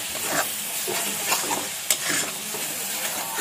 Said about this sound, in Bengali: হলুদ গুঁড়ো জিরা গুঁড়ো দুই দানা চিনি এখন এটাকে ভালো মতো কষিয়ে নেব